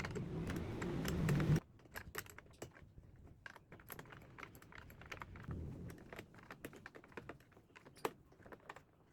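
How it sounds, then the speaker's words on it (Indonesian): A 10 mm wrench works the front number plate bolts loose on a Keeway Shiny 150 motorcycle, making close metallic clicks, ratcheting taps and small clanks in irregular bursts, after a brief louder rumbling noise at the start. "Lanjut kita buka baut plate nomor depan dengan kunci 10."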